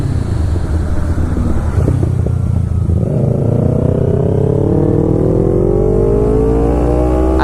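A Kawasaki Ninja 250R motorcycle accelerates hard, its engine note rising steadily in pitch as it revs through a gear, loud and close with steady road and wind noise.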